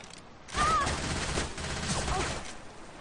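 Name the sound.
gunfire in a multiplayer video game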